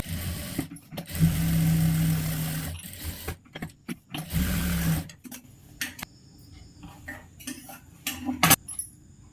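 A tailoring sewing machine stitches lining fabric in bursts of fast, rhythmic whirring that stop and restart, separated by quiet pauses, handling clatter and a final sharp knock.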